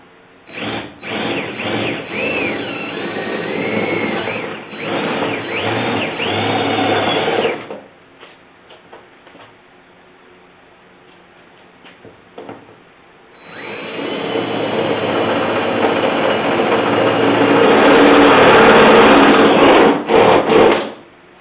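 A power drill whirs in two long bursts with a quiet pause between, the motor pitch rising and dipping as it bites into the metal door of a 1981 Chevy C30 dually truck, loud and close.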